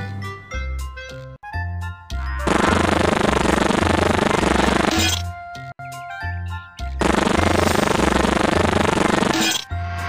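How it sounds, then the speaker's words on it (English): Cartoon power tool pushing bolts into an airplane in a Fisher Price Little People Discovery Airport computer game, two loud sustained rattling hammering bursts framed by short plinking musical game tones. "Now use the power tool to push the bolts into place."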